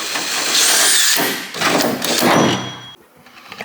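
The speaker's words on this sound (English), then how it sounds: "I know where in the hood I need to drill a hole" A power drill bores a hole through the hood of a turbocharged budget Lexus, loud and close, with whining bursts that rise and dip as pressure changes, then stops abruptly, leaving quieter scraping and handling sounds.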